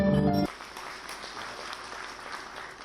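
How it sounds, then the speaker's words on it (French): A crowd at an award ceremony for exporters claps in a brief burst of applause that follows a loud musical tone, then carries on as scattered, moderately distant clapping. "Des applaudissements mérités à l'honneur de ces exportateurs désignés comme meilleurs dans le secteur"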